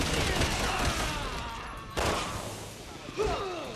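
Gunfire in the Resident Evil 6 video game, a quick burst of several shots followed by a couple of isolated bangs, fairly quiet and reverberant, with no speech.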